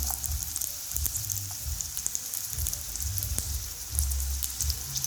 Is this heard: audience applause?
no